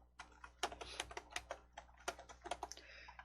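Keystrokes on a computer keyboard as a search word is typed, a quick irregular run of close, crisp clicks and taps with a final press, no talk.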